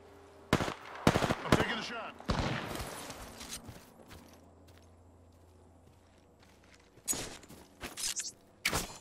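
Gunfire rings out in the video game Void Jumping: a cluster of sharp, loud shots and short bursts early on, then a quieter lull, then another volley of rapid reports near the end.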